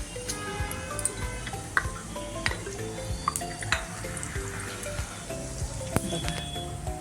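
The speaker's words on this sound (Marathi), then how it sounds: "ह्या सुक्या बेसनाला जिरी मोहरीची फोडणी लागणार आपल्याला." Cumin and mustard seeds tempering in hot oil for dry besan: a steady sizzle with many sharp popping crackles and occasional utensil clinks, close and continuous.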